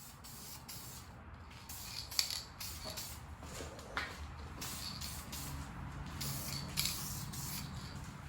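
Aerosol spray paint misting onto a steering wheel in a dry spot, a series of short hissing bursts with small handling clicks between them, faint and close.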